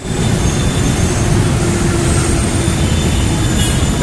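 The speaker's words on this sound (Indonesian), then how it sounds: "Ada kereta lewat ya." A commuter train rolls past a busy station platform as a loud, steady low rumble and rattle that lasts throughout with no break.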